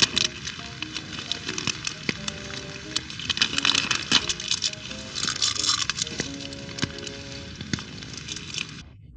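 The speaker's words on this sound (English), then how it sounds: "Since the rain has gotten really heavy," Heavy rain drumming steadily on a surface at a campsite, a dense continuous patter with occasional louder drips and taps close by.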